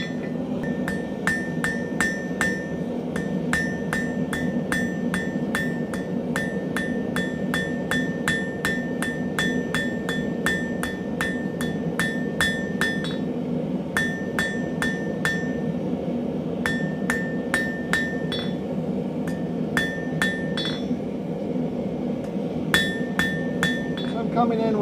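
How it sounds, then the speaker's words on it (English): Rapid, ringing hammer blows strike a heated Viking bracelet on an anvil, sharp metallic clinks in quick bursts with short pauses, continuing steadily over a background hum. "Coming in with just hammer blows of varying hardness."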